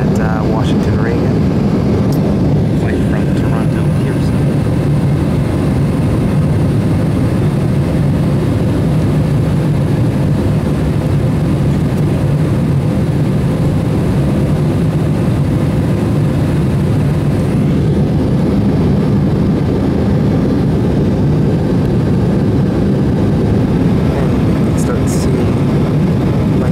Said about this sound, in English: this is Air Canada Flight 7620, Embraer E175, coming in to land now at Washington Reagan